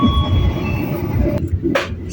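The KA Kamandaka passenger train rolls into Pemalang station in Indonesia, with a loud, steady rumble of wheels and carriage noise heard from inside, a whining tone fading out and a couple of brief sharp knocks near the end.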